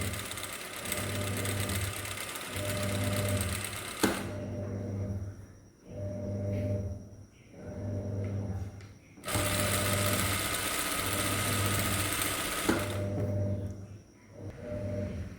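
A sewing machine runs in repeated bursts of steady stitching on fabric during a tailoring class, with short pauses between runs and two longer, louder passages, close and clear with no talk.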